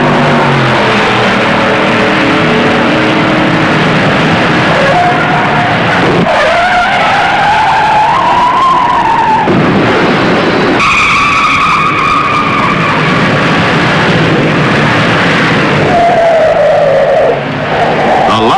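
Stock cars race at the Southern 500, filling the air with a loud, unbroken engine roar whose pitch sweeps up and down as cars pass, joined by tire skids.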